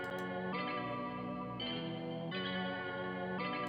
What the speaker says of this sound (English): It's like this real ringy, piercing sound that I was hearing.